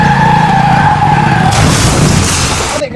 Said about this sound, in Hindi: ओ भाई जी, बहुत बड़ा एक्सीडेंट हो गया।